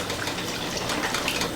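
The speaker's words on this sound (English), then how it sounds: "Next, I'm gonna add 1½ cup of water," Water pours steadily into a pot of Thai green curry with bamboo shoots, a continuous close gush of liquid lasting the whole moment with no talk over it.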